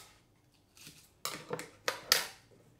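Scissors snip through stretched packing tape on a homemade drum, a few crisp close cuts in quick succession.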